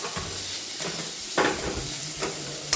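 Grated beetroot sautés in ghee for beetroot pulao, giving a soft steady sizzle broken by a few close scraping stirs of a spoon in the pan.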